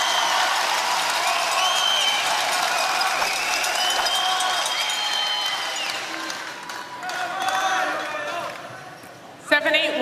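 A crowd in a sold-out fieldhouse applauds and cheers at a Major League Pickleball match in Orlando, a sustained wash of clapping under a commentator's voice, ending with a sharp bang.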